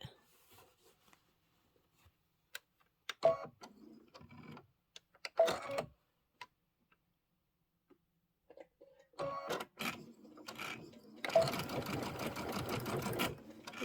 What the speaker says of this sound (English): I'll start maybe like a 1/4 inch in. Sew down a little bit.